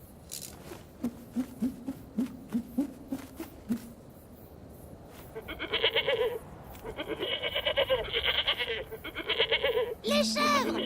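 Goats bleating somewhere off in the distance, in a repeated run of calls heard faintly at first and then louder in stretches, with a voice speaking at the start of the animated Sahara scene.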